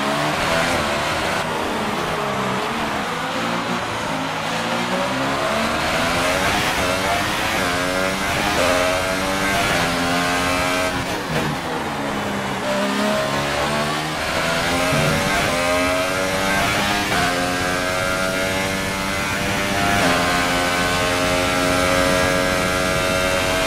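Racing car engines in a Singapore Grand Prix video game, loud buzzing revs that climb and drop repeatedly as cars accelerate and shift gears, continuous throughout.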